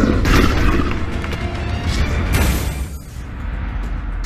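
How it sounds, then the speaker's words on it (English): A booming explosion attack in the VR game Ancient Dungeon VR, a loud dense rumbling blast with crashing bursts that swell and churn for several seconds before thinning out. "Okay, I did my explosion attack."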